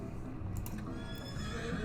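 Colonel Sanders' horse in a video game, its saddle decorated with chickens, lets out a clear whinny that stands alone over a faint low background, with a few soft hoof clicks.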